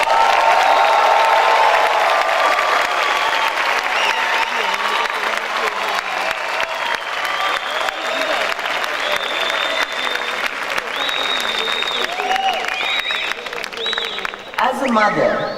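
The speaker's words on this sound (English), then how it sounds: "So please join me in applauding Sri Limkokwing." Graduation ceremony audience applauds in a large hall, a sustained, even wash of many hands clapping with some cheering, carrying on for over fifteen seconds with voices faintly mixed in.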